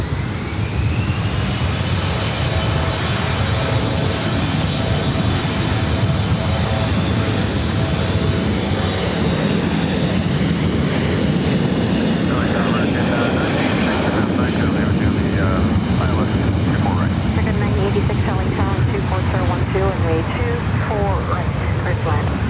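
An American Airlines Airbus A321neo jet lands at LAX with a loud, broad roar that swells and holds throughout, while radio voices talk over the engine noise.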